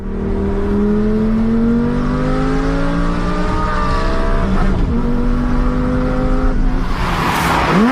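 A restored, once-wrecked Lamborghini Gallardo drives hard, its engine revving up through rising pitches with a clear gear change and a final sharp roar, loud and close with no talk.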